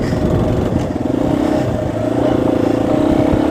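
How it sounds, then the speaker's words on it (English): A Yamaha XT250 dual-sport motorcycle's small 250 engine buzzes steadily at highway speed above about 60, a continuous close, loud drone with slight rises in pitch and no talking. "once you get much above 60, 65, the little engine buzzes quite a bit"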